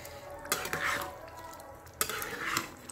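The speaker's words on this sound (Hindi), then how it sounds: "पीसे हुए गरम मसाला को दे दिए, थोड़ा चला देते हैं" A spoon stirs ground garam masala into a potato and soybean curry in a pan on medium flame, giving two scraping, clinking passes against the metal over a soft background hiss.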